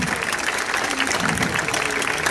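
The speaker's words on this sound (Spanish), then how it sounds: "Sí, ponte de pie, el aplauso, fuerte el aplauso." A crowd at a live bird show breaks into steady, dense applause, a sustained wash of clapping hands filling the space while a voice speaks faintly underneath.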